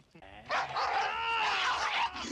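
Dog vocalizing in the 1981 film Mad Max 2: The Road Warrior, a strained whining bark-like cry held for about two seconds, loud and close, with voices mixed in around it.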